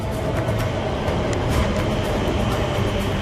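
An Elizabeth Line train pulls into a London station with a loud, steady rumble and rolling rail noise that fills the whole stretch, close by and continuous, with no voices over it.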